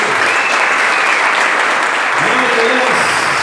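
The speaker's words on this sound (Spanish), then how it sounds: "Dale un aplauso al Señor." A church congregation claps during a morning service, loud continuous applause throughout, with a voice briefly speaking over it toward the end.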